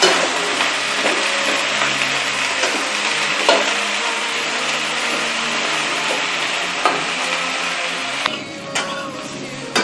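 Potatoes and cauliflower frying in oil in a pan for an aloo gobi curry, a steady close sizzle running throughout with occasional stirring scrapes and no talk.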